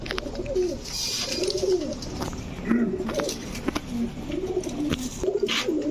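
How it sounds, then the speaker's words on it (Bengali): Pigeons, all female domestic birds of several fancy breeds, coo in soft repeated warbling phrases close by, with faint chirps and background rustle. "তিনোটাই কিন্তু মাদি কবুতর"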